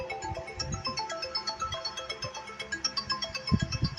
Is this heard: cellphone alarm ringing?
yes